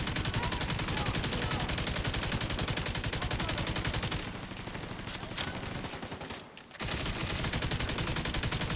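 Rapid automatic gunfire in the video game Tom Clancy's The Division 2, a dense unbroken stream of shots that drops briefly in the middle before resuming loud and sustained.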